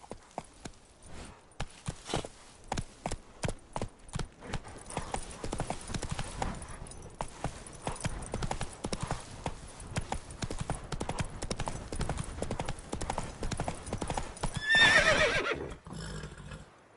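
Horse galloping and neighing in The Witcher 3: Wild Hunt on PS5, a steady run of hoofbeats that starts as distinct clops and builds into a continuous gallop, with a whinny near the end.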